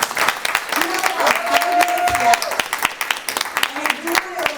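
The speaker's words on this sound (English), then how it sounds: "Let's give our panelists a round of applause." Audience applause for panelists at a university event on political power for women of color, scattered claps from a modest crowd mixed with a voice and murmuring over a few seconds.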